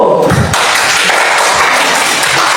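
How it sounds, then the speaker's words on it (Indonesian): A class gives a round of applause for a student group, a dense wash of clapping hands after a brief thump at the start, loud and sustained. "Iya, kita tepuk tangan buat kelompok 1."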